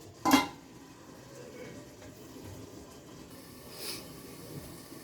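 A lid is set over a cooking pot of chana masala with one sharp, close metallic clank. Quiet cooking noise follows, with a softer brief knock near the end.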